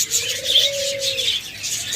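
Cage birds such as lovebirds, cockatiels, budgerigars and doves calling at close range, a sustained coo-like tone over bright chirping chatter, no talk.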